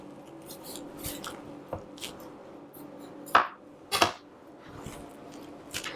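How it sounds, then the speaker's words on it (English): A knife slicing along the core of a vegetable on a cutting board in a home kitchen while making taco meat, a few quiet crisp cuts with two sharper crunches midway, close and without talk. "I'm just going to cut along that core almost to the bottom"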